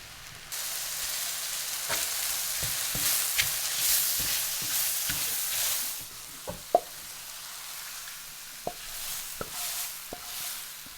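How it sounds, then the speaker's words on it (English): Mushrooms and garlic fry in a pan with a steady, bright sizzle, broken by occasional knocks and taps of a utensil stirring against the pan. "first thing I need to do is just go and fry the mushrooms and the garlic"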